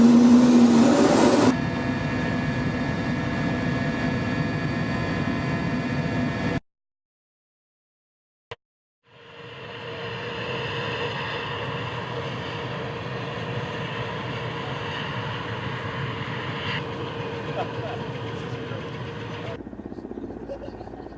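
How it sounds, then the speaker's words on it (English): A Russian Mi-8 helicopter's engines drone loud and steady in two long stretches, split by a few seconds of silence and a single sharp click. "This is the Russian Mi-8 helicopter."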